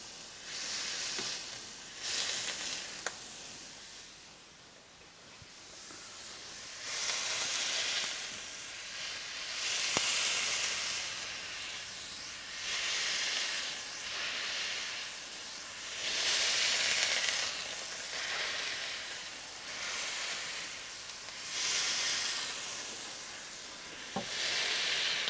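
Oklahoma onion burger patty pressed into a hot pan sizzles in waves, a steady frying hiss that rises and falls in repeated bursts, fairly quiet and with no talk.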